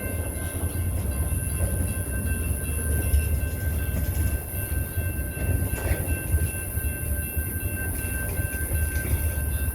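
A BNSF train rolls past at close range, giving a steady, loud rumble of railcars that holds for the whole stretch with no voices.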